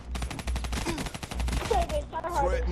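Rapid automatic fire from a Kuda submachine gun with Varix 3 sight and long barrel in Black Ops 3 online multiplayer, a loud burst of evenly spaced shots followed by scattered game sounds and tones.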